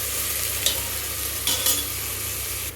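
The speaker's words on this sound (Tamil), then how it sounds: "இது ப்ரௌனாக டர்ன் ஆகிற வரைக்கும் ஓரளவுக்கு நல்லா வதக்கணும்." A pan sautés ingredients for chicken kurma until golden brown, with a dense, loud, continuous sizzle and a few brief scraping stirs near the end.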